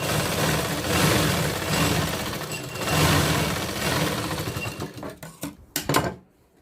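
Sewing machine stitching the seams of a 36-inch katori blouse, giving a steady mechanical whirr in uneven bursts that ends in a few short sharp clicks before going quiet.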